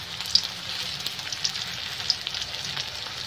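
Garlic and shallots sauté in a pan for a mustard-greens stir-fry, giving a steady, moderately loud sizzling hiss with faint crackles throughout and a low rumble underneath.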